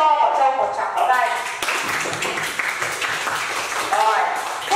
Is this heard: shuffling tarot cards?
no